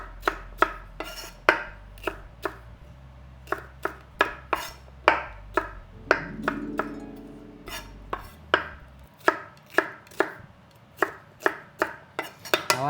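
Stacked pieces laid skin side down and cut with a knife on a board, a steady run of crisp, evenly spaced chops close by, with a low hum in the first half and no talking.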